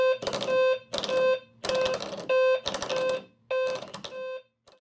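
A loud electronic alarm from a home notification system sounds in repeated bursts of harsh buzzing beeps, roughly five pulses with short gaps, close by.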